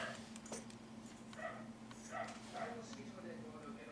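A dog barks and yips in short bursts somewhere in the background of an indoor room, over a steady low electrical hum, with some talk.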